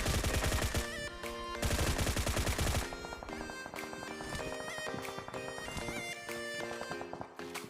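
Rapid automatic gunfire from a squad battle in Free Fire, dense bursts loud and continuous with a heavier volley in the first few seconds, followed by steadier overlapping shots and music-like game sounds.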